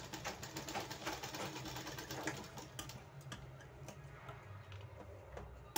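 A sewing machine runs steadily, stitching the fabric for a potli button on a blouse, with a busy mechanical whir that thins out toward the end.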